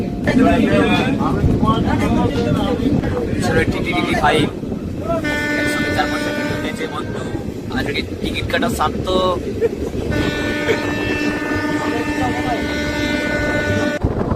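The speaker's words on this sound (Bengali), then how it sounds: "ট্রেন এখন ব্যাপক স্পিডে যাচ্ছে পুরুলিয়ার দিকে।" A passenger train runs at high speed near Purulia, with strong wind buffeting at an open door. Steady roaring rumble and wind noise continue throughout while a person talks over it.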